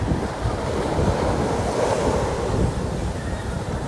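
Surf rolls onto a seashore in a steady, continuous wash, with wind buffeting the microphone as someone walks along the beach.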